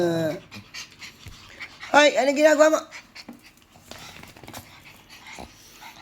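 A small puppy pants and lets out short whimpers, with one louder wheezing, whining burst in the middle; someone talks to the dogs throughout, close by.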